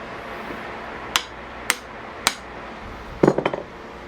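An axe head is hammered against a log to straighten it. Three evenly spaced sharp metallic strikes ring out, then a quick rattling cluster of lighter taps, all close and loud against a quiet background.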